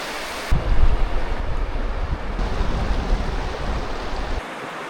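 A river rushes past in the Québec wilderness, a broad, steady roar of flowing water heard close by with some wind buffeting the microphone, with no voices over it.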